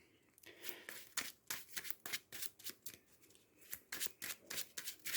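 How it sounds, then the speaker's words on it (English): A Marvel Champions hero card deck being shuffled, a quick run of crisp riffling bursts and soft card slaps in an uneven rhythm, close and fairly quiet, with no voices. "Let me just shuffle her hero deck."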